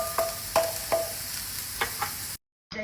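Onions sautéing in ghee and oil for a meat kabsa, a soft steady sizzle with repeated scraping stirs of a spoon in the pot, then a brief silent gap.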